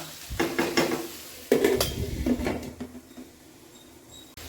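Ivy gourd pieces are stirred in a cooking pan with a spoon, giving several scraping, clattering strokes against the metal at close range, over a soft background sizzle and with no talking.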